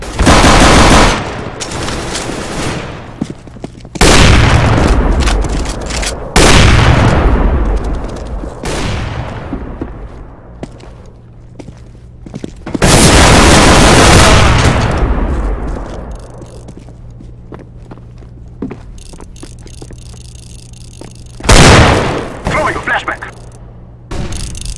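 A flashbang grenade goes off amid gunfire in a competitive video game match, with several loud, sharp blasts and rattling shots spread across the stretch, each burst decaying into a ringing tail.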